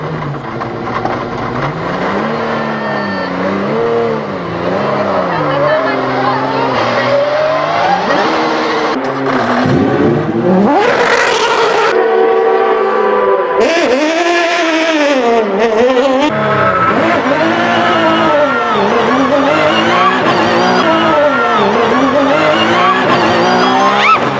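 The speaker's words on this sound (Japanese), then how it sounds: "200キロまで急加速、この加速が GT マシンの醍醐味。" Honda NSX GT500 race car accelerating hard toward 200 km/h, its loud, close engine howl rising in pitch and snapping down at each upshift in a repeated climbing rhythm, with a brief burst of rushing noise midway.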